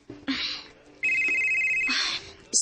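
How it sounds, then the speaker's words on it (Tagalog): A telephone rings with an incoming call, giving a few bright electronic ring bursts separated by short gaps, close and clear with no voices. "si Claire nanawag na ako."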